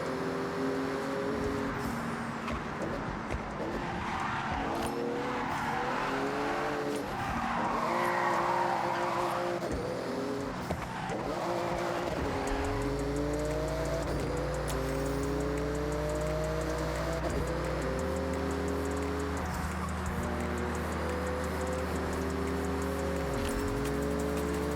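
A Porsche roars through a speed zone in the Forza Horizon racing game, its engine revving hard and climbing through several gear shifts while the tyres skid and squeal. The engine is loud and close and runs without a break, with no talking.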